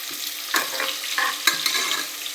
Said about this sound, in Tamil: வெங்காயம் வந்து நல்லா பொன்னிறமாக வதங்கணும்.